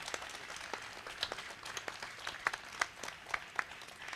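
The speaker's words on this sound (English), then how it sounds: "Can we please have a huge round of applause for ma'am?" Faint, scattered hand clapping comes from an audience at a literature festival award presentation, a thin patter with a few sharper individual claps standing out.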